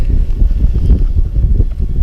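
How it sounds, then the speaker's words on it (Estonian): Blizzard wind gusting outdoors during an Arctic winter dog-sled expedition, with blowing snow; a steady, rumbling low roar buffets the microphone continuously without pause. "tuiskab ikka väga korralikult."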